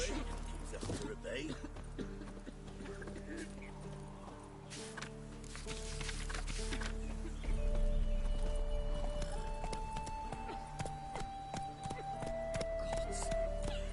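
Horse Roach's hooves in The Witcher 3, a continuous clip-clop under music and a voice speaking, with outdoor ambience throughout and the gait growing busier later on.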